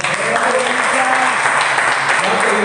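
A church congregation applauds during a sermon, giving a dense, steady roar of clapping with voices and faint tones mixed underneath.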